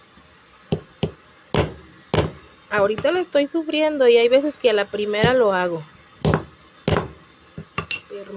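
Sharp, separate knocks from a hammer cracking hard coquito (coyol) nut shells land as scattered single strikes between and under someone speaking Spanish nearby.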